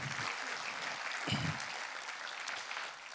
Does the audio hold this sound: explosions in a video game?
no